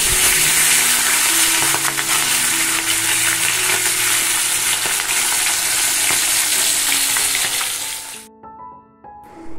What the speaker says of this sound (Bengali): একদিকে বড় কড়াইতে মাছ ভাজা হচ্ছে